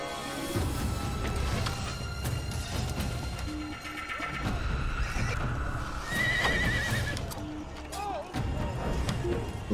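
A horse whinnies several times over clip-clopping hooves and mechanical clatter in the video game Assassin's Creed, with a person talking in between.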